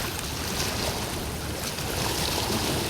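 Sea waves rolling onto the shore at high tide after monsoon rains, a constant broad wash of surf that stays loud and steady with no voices.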